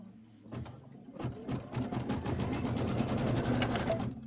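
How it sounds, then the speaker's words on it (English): Embroidery machine stitching a quilt placement line, a fast steady mechanical whirr of needle strokes that starts after a few clicks and runs loud and close to the end. "Let's go ahead and stitch first. Let's stitch our placement line."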